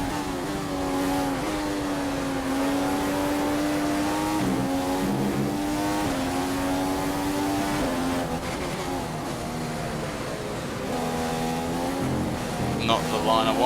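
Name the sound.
Formula 1 race car engine at British Grand Prix, from video game F1 2015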